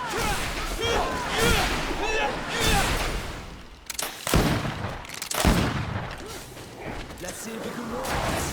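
Musket volley fire in the video game GreedFall, dense overlapping shots and clattering mechanisms in a loud battle, with a sharp burst near the middle and voices shouting over it.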